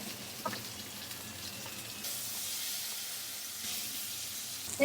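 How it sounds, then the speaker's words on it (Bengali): Mustard oil sizzles in a hot wok, a soft, steady hiss close by that grows a little brighter halfway through, with no voices. "কড়াই গরম হয়ে গেছে দিয়ে দেবো সরিষার তেল"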